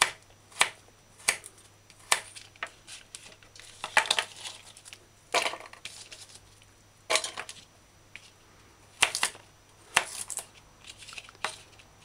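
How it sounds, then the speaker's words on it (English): A knife chops through coconut on a board in irregular sharp cuts, some single and some in quick clusters, close and crisp. "so do what I'm doing and dice coconut"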